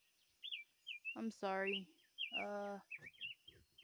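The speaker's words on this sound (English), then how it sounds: "You hear that bird?" A bird chirps outdoors at dawn in repeated short, high tweets from a moderate distance, both between and under a person's quiet, brief speech.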